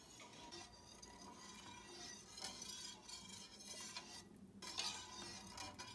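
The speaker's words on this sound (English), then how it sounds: "straight away you need to start stirring with the whisk" A whisk stirs a flour-and-butter sauce in a pan, a faint steady scraping and swishing with light clinks against the metal, fairly quiet and continuous with no voices.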